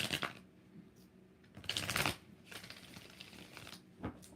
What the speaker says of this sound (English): One more shuffle after this one.